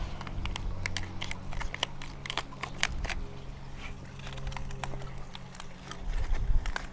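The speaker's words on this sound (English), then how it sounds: "I'm not the best in the world with a razor. Okay, we got that side. Then I'm going to cut this side." A water lily being cut apart with a razor outdoors, with rapid dry crisp snips and crunching slices close by over a steady low background hum.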